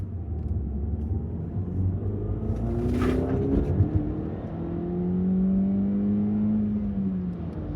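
A Mini Cooper S with a 1600 turbo engine revs and pulls, its rising engine note climbing in pitch over a constant road rumble, sustained and moderately loud from inside the car.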